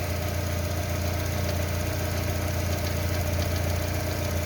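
A Lada Priora's 1.6-liter 16-valve engine idles steadily with a persistent knock that remained after the hydraulic lifters were replaced. The hum stays close and even throughout, without speech.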